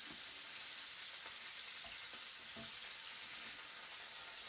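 Rabbit legs frying in a pan for a mustard rabbit dish, steady soft sizzling with a few faint clinks and shifts as pieces are turned, no talking.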